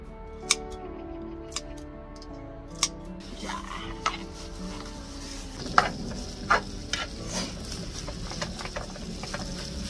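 Wild greens snipped with kitchen scissors into a pan for fried rice with pork belly. About half a dozen sharp, crisp snips are spaced through a steady low kitchen bed, with softer clatter and rustling of greens in the later half. No speech.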